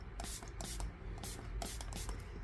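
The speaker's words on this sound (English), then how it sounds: "what I'll do is I'll take the spray bottle" A spray bottle mists water onto an art journal page in several quick, hissing bursts with short pauses between them, close and moderately loud.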